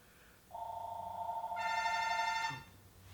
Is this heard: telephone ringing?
yes